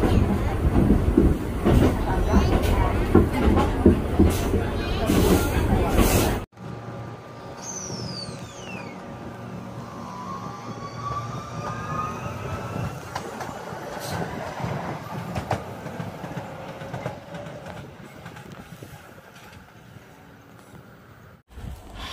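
Rumbling ride aboard an Iga Line train in Japan, a steady rolling drone with rattles and brief high squeals, following a stretch of loud speech and noise before the carriage sound takes over.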